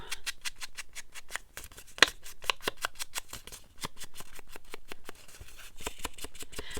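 Scissors snip paper pieces for a fall mushroom altered book, a quick run of crisp, regularly spaced cuts close up, with a short pause partway through.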